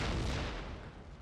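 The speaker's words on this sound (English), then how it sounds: "6-pounders here are still shooting. So is my howitzer." A deep, booming roar of 6-pounder cannons and a howitzer firing in a Napoleon Total War battle, one heavy blast at the start that rumbles on and slowly fades.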